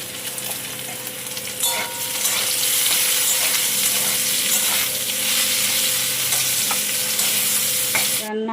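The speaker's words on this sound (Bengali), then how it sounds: "এখানে পালং শাক আছে একটু ভাজবো" Spinach frying and being stirred in a pan, a steady loud sizzle running through with scraping stirs, ending abruptly.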